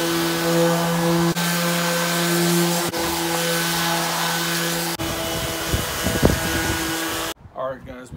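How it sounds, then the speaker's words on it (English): A power sander works over headboard lumber for a farmhouse twin bed, sanding at 80 grit and then 120 grit. It makes a loud, continuous whirring drone with a steady hum, then stops, and some brief handling noises follow. "we're gonna sand these down with some 80 grit and then hit it with 120"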